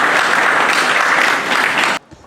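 Audience clapping to welcome a vice chancellor at a university meeting with journalists and media managers, brisk and dense, then cutting off abruptly into near quiet.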